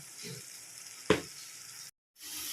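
Tomato rice masala sautéing in oil in a pan, a steady close hiss of frying with one sharp stir-like burst midway, cut off by a brief silence before the sizzle resumes.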